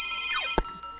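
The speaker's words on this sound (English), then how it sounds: "And that's my phone." A mobile phone ringtone chimes in a bright, looping melody for about half a second, then cuts off abruptly with a low thud, leaving near silence.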